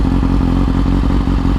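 A street motorcycle's engine idles loud and close with a steady low rumble and a rapid, even clattering pulse throughout.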